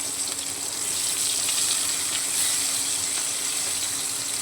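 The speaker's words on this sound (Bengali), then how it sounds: "দিয়ে ভালো করে আমি এটাকে ঢাকা দিয়ে ভেজে নেবো" Potatoes fry in a covered pan with a continuous, even sizzle and a faint crackle that holds steady throughout, close by and with no voices.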